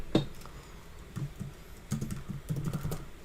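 Soft tapping of typing on a computer keyboard while entering code, a few short bursts of quiet, close keystrokes with brief pauses between them.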